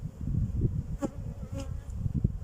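Honeybees of a hive colony buzz steadily and close by, a dense continuous hum with faint passing whines of individual bees, no talking.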